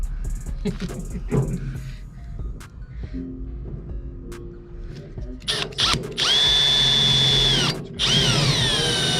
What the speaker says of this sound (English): I'll have to drill bigger ones.